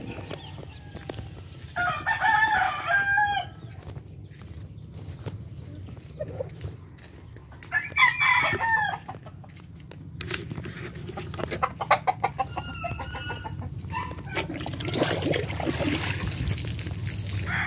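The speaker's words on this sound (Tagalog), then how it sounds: "Wala na akong ibang ginagawa, nag-alaga ng manok." Farm chickens cluck and roosters crow in bursts, several loud crows spaced across the stretch over a steady low background hum and scattered clucking, with little or no talk.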